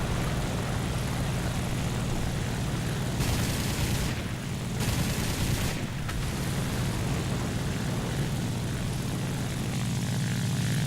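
Propeller fighter planes in a flight combat video game drone loudly and continuously, a dense engine roar with brief dips and surges as aircraft maneuver, no voices.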